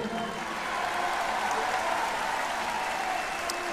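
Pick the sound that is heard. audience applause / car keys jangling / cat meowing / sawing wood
audience applause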